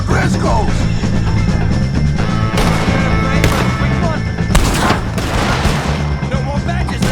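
Heavy gunfire rages in a Red Dead Redemption 2 shootout against O'Driscoll gang members, dense overlapping shots and booms with sharp louder cracks throughout, under shouted voices.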